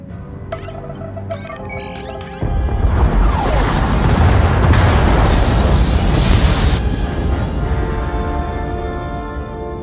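Spaceship pod bays exploding in Star Wars: The Old Republic: after a few short metallic clanks, a loud blast erupts at about two and a half seconds and rolls into a long, rumbling, crackling wash of destruction that slowly fades.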